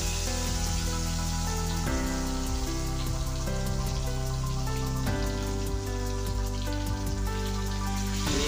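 Tuna pieces frying in hot oil in a wok, a dense steady crackle and sizzle heard close and continuous, with no talking.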